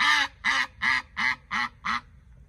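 A duck quacks six times in an even, steady rhythm, each call loud and close with clear pauses between, followed by quiet.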